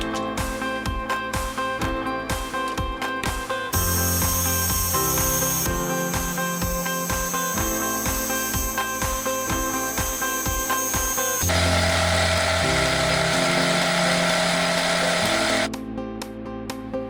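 Metal lathe trimming the outside surfaces of a part in a home machine shop, a continuous loud whine and cutting rasp with shifting tone as passes change, close up, with no talk.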